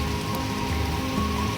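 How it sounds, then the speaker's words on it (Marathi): Heavy torrential monsoon rain pours down steadily, a dense continuous hiss and patter of drops hitting surfaces close by, with no voices over it. "हे बघा, अगदी मुसळधार पाऊस म्हणतो ना आपण, तसा पाऊस आहे"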